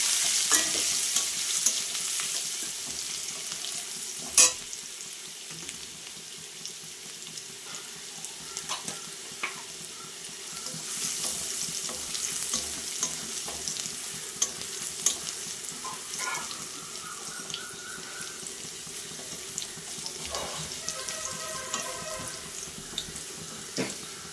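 Crushed garlic dropped into hot oil already tempered with black cumin (kalonji) in a home kitchen, a steady broadband sizzle and crackle running throughout with occasional clinks of a utensil, no talk.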